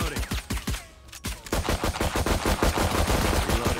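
Automatic gunfire from a video game shooter rattles out in rapid, close, loud bursts, pausing briefly near the one-second mark before resuming as a continuous stream of shots.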